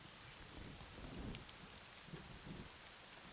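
Steady rain pours in AI: The Somnium Files, a dense, even hiss of falling water with faint low rumbles underneath, heard alone without voices.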